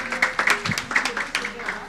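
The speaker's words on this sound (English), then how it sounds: "A hand of applause to everybody in the room." Brief scattered clapping from a room audience at a gender equality bell-ringing event, with a voice talking over it.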